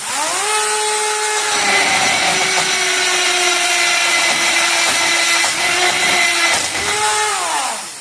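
A drill bit coated with Drill Wax spins up into a loud, steady high whine that holds for several seconds, then winds down and picks back up near the end, with no voices.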